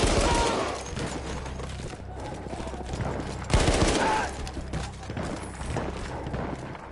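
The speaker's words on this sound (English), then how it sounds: "Let me shoot for a second" Gunfire from the World War I shooter Battlefield 1, a dense fusillade of rapid machine-gun bursts and overlapping shots that stays loud throughout, with a heavy blast near the middle.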